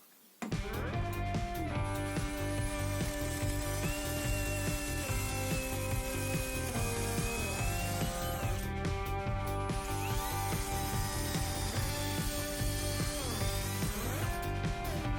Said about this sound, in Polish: Więc zaczynam nawiercanie, płyta wiórowa 18, przyrząd ustawiony na 19 mm grubości materiału.